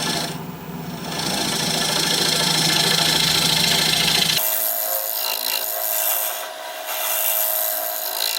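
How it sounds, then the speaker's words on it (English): A negative rake scraper cutting wood on a lathe gives a steady, close, loud rasping scrape that shifts to a thinner, higher tone about halfway through, with no talking. "We'll try our negative rake scraper."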